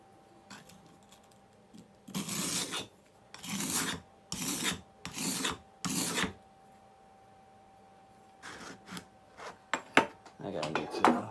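An old leveler plane, once a granddad's, rubbed back and forth on a clamped coarse sharpening stone: five loud gritty rasping strokes in a steady rhythm, a pause, then quicker scattered scrapes, close and with no talking.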